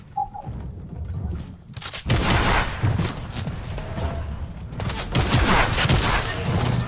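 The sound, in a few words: shotgun firing in Fortnite video game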